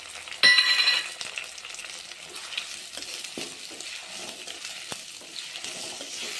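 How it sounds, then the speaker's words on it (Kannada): Tomatoes and peanuts frying in a pan for bisibele bath, with a brief loud sizzle as they hit the oil, then a softer steady frying hiss with occasional stirring scrapes. "ಇದು ಚೆನ್ನಾಗಿ ಫ್ರೈ ಆಗುತ್ತೆ."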